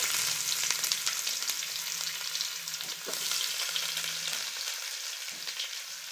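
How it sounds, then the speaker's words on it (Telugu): Thinly sliced onions fry in hot oil in a pan for gongura chicken biryani, a dense continuous sizzle and hiss close up with a few faint stirring knocks and no talking. "ఈ ఎర్రగడ్డల్ని బాగా ఫ్రై చేసుకోవాలి"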